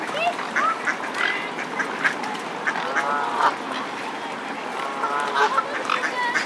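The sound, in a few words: ducks quacking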